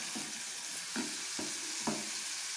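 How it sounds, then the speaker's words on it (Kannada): Egg bhurji fries in a pan with a constant bright hiss, while a spatula scrapes and stirs it in several short, regular strokes. "ಫ್ರೈ ಮಾಡ್ಕೊಳ್ಳಿ ಇದನ್ನು ಚೆನ್ನಾಗಿ."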